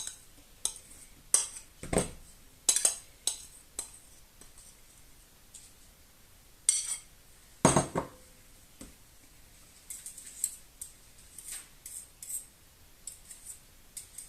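A spoon stirs sour cream into apple and walnut cake batter in a bowl, producing quiet, sporadic clinks and taps against the bowl with soft scraping between them and no talking.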